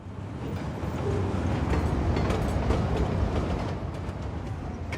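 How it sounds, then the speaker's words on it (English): Train arriving in Cities Skylines 2, a loud steady rail rumble with faint clickety-clack, swelling slightly in the middle before easing, with no talk. "Our first train arrived here in Big Village."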